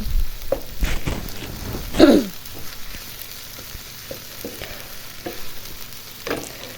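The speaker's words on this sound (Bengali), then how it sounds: "রসুনটা ভেজে নেব তেলের ভিতরে।" Ginger and garlic frying in hot oil for a Rupchanda fish curry with potatoes and eggplant, a steady soft sizzle with a few sharper stirring scrapes, one louder burst near the middle, no talking.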